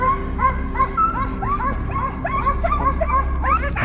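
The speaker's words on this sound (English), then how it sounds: "The distant barking of dogs signaled that the prey was near." Hunting dogs barking and yipping during a wild boar hunt, a rapid string of sharp, overlapping barks at moderate distance, steady over a few seconds.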